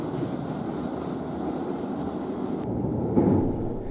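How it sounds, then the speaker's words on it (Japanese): A limited express train crosses the Kumozu River railway bridge, rumbling steadily along the rails with a low, continuous roar from inside the carriage, and a brief metallic squeal near the end. "雲津川の鉄橋を渡ります。"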